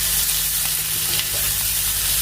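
Onion and garlic frying in a pan for a greens dish, a dense steady sizzle with faint crackles, close and continuous with no talking.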